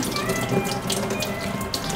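Tap water runs steadily over a cucumber in a kitchen sink, a continuous close splashing rush with no pause and no talking.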